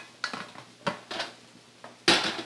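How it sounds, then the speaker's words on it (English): Metal cooking pots shifted around on a stovetop, giving several separate clanks and scrapes of cookware, each a short burst with the loudest clatter at the end. The pots are close by and there is no talking. "we're going to switch up the pots"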